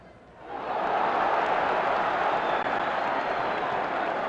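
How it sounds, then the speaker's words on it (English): Boxing arena crowd at the 1972 Floyd Patterson versus Oscar Bonavena fight swelling suddenly into a loud, sustained roar after a punch, rising from a quieter murmur and holding at full volume. "Madison brought the crowd up with that one."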